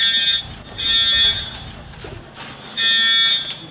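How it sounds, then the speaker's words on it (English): An electronic fire alarm at a high school blares in loud, piercing pulses, sounding about a second each with gaps between, echoing in a large space. "The fire alarm is a false alarm."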